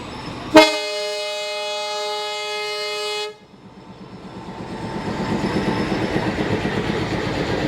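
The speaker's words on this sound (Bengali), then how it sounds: "দুইটা ট্রেন একসাথে ছেড়ে দিল আমরা দুইটা ট্রেন দুই দিকে যাচ্ছি" A loud, sustained horn blast from a commuter express train as two trains depart together, followed by rising rhythmic wheel clatter on the rails as they pick up speed.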